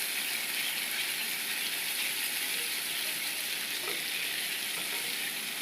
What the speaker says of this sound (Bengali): এবারে ভালো করে মশলাটা কষিয়ে নেব আমি